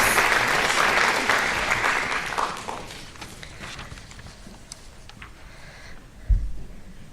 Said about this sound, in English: Another big round of applause for our senior inductees.